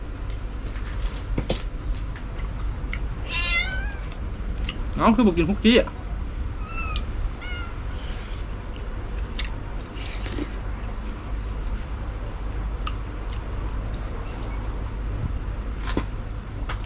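Several short meows come from a cat close by, mixed with a person talking and steady background rumble.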